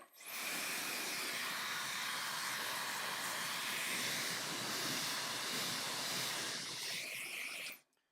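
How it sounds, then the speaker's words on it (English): A hair blow dryer drying a wet painting blows a loud, steady hissing rush close by, starting abruptly and cutting off after about seven seconds. "And blow dryer."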